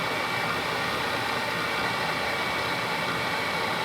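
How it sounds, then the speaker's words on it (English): A milling machine runs at slow speed, about 800 RPM, as a half-inch four-flute high-speed steel end mill faces the end of a workpiece for low-profile edge jaws; a steady, loud broadband whir and hiss continues without pause. "I can face the end with a half-inch 4-flute high-speed steel end mill"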